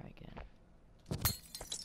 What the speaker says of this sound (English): I wonder if I could break that glass just by